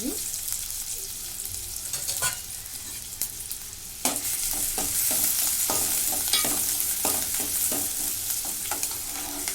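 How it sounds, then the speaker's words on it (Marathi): Chopped onion hits a hot oiled pan with bay leaves and cinnamon pieces, then fries with a loud continuous sizzle, punctuated by sharp scrapes and clinks of a spoon stirring against the metal. "आता कांदा टाकून घेते एक कांदा घेतला"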